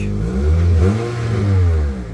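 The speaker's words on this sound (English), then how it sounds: "You can hear you have a little bit of exhaust leak" A Toyota Matrix engine with a small exhaust leak revs up and falls back twice, a loud, close, rumbling drone with a raspy, puffing edge and no talk.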